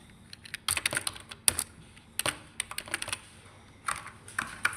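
Typing on a computer keyboard while entering account details in Tally ERP 9: irregular bursts of crisp key clicks close by, including firmer single keystrokes such as Enter, with no one talking.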